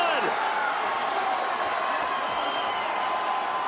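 Boxing arena crowd at the Alexis Rocha vs JoJo Diaz fight rising to its feet, a loud, dense, sustained roar of cheering and shouting that fills the whole clip without pause.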